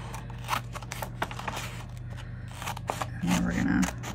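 Scissors snip freehand through paper for a Happy Planner monthly spread, a series of soft close cuts and rustles, with some paper scraping and handling throughout.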